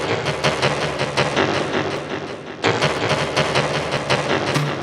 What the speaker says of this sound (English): So all I have is a reverb, a delay, an EQ taking off some of the high end, low end, and a compressor.